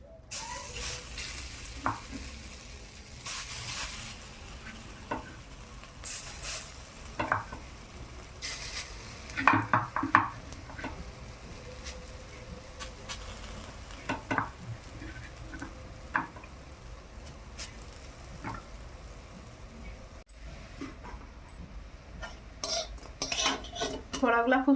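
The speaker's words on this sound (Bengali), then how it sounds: "বাকি আর একটু আছে, ওটা ভেজে নে।" The last batch of fritters fries in oil in a village kitchen, a soft steady sizzle broken by frequent clinks and scrapes of a spatula against the pan, with sharper clatters of utensils now and then.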